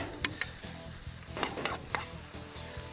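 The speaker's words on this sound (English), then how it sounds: "we're going to lightly saute this lobster through those beautiful onions" Maine lobster sautéing with onions in a pan, a steady soft sizzle broken by a few sharp clinks and scrapes as it is stirred, close and fairly quiet, with no voices.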